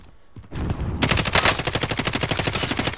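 Automatic gunfire in a video game starts after a brief lead-in and runs as a loud, close, steady rapid-fire rattle of evenly spaced shots.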